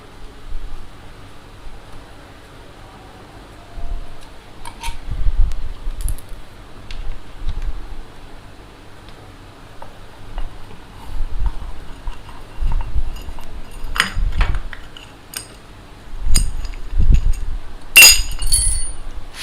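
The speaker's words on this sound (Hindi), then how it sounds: "सबसे पहले हमने ये ले लेनी है 4 mm की एल की, और ये 2 बोल्ट हमने खोलने हैं" Two bolts on the clutch of a Honda CD 70 motorcycle are loosened with a 4 mm Allen key: scattered light metallic clinks and taps of the tool against the bolts, with small scraping handling noises in between.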